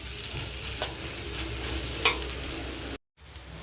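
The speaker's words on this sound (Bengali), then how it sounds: "কোচানো পেঁয়াজ আর কেটে রাখ ছিঁড়ে রাখা কাঁচা লঙ্কাটা একসাথেই ভালোভাবে লাল লাল করে একটু ভেজে নেবো" Chopped onion and torn green chili fry in oil in a pan, with a steady close sizzle, occasional stirring scrapes and a brief cut-out near the end.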